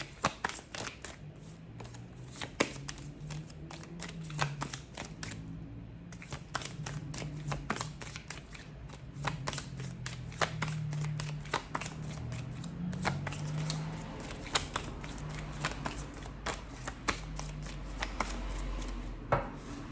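Wheel of the Year tarot cards being shuffled by hand, a steady run of soft riffling slaps and taps close up for about twenty seconds with no talking.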